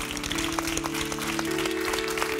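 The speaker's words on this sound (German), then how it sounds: "Applaus für Dania König." Studio audience of a German TV talk show applauding an arriving guest, a dense, even wash of clapping under a steady musical tone.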